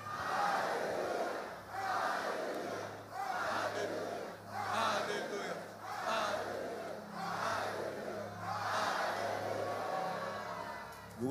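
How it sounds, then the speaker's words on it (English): A revival service congregation shouts hallelujah together in a series of loud, rhythmic crowd cries, seven or so surging waves of massed voices, with a low hum underneath. "shout seven loud hallelujah to the Lord"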